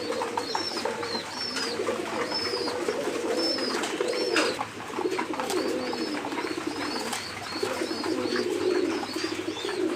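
A pair of grey bar and brown bar pigeons coo in repeated low rolling phrases close by, with small chirps and twitters scattered above and a constant loft hum beneath.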